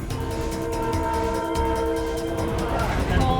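A Philippine National Railways passenger train rolls past with a steady mechanical rumble and a sustained horn tone sounding throughout, loud and close.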